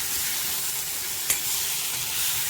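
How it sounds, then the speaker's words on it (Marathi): Marinated paneer being stirred and heated in a pan, a steady broadband sizzle with one brief scrape of the spoon partway through, close and continuous with no voices. "आता त्याला थोडं आपल्याला मिक्स करून गरम करून घ्यायचं आहे"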